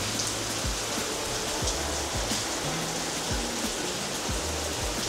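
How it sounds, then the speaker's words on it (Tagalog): Steady rain falls around a house under construction, a dense continuous hiss of drops with occasional low thumps, heard close and unbroken throughout. "And umuulan ngayon, kaya naka-mic tayo."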